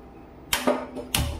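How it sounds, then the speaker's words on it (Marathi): A kitchen gas stove is lit for cooking, giving sharp close ignition clicks and a whooshing burst, three quick snappy bursts in under a second, with no talk. "गॅस पेटवली"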